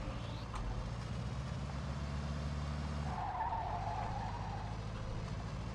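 A car in Mafia 2 Definitive Edition revs its engine with a steady hum, then lets out a sharp tire squeal as it skids.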